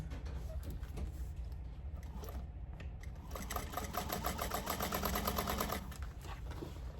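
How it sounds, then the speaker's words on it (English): A sewing machine runs steadily, top stitching down the side of a tote bag seam, its rapid needle chatter speeding up in the middle and then easing off, near and continuous with no voices. "then we're gonna top stitch down each side"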